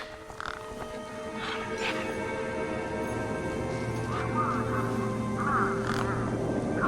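Birds squawk and cry repeatedly near a truck in the video game Beyond A Steel Sky, with harsh, quacking calls in short bursts over a steady low background hum.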